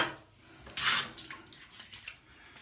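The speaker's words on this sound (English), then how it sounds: "I'm going to rinse off" Water splashes and runs as a face is rinsed after a wet shave, with a brief louder gush near the start and softer drips and trickles afterward, close and moderately quiet.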